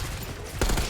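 Gunfire from Call of Duty: Black Ops 6 multiplayer hits as a short, loud burst of rapid shots near the end of the moment, over steady game noise.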